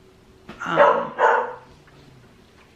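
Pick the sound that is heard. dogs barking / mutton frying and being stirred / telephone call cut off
dogs barking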